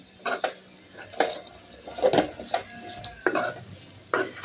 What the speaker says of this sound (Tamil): இது கொஞ்சம் வதங்கட்டும் மூடியெல்லாம் போட தேவையில்ல அப்படியே வதங்கட்டும்